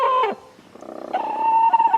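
Chickens inside a farm side-by-side utility vehicle, a clucking call near the start, then a quiet moment followed by a sustained throaty trill of cackling and clucking, close and fairly loud.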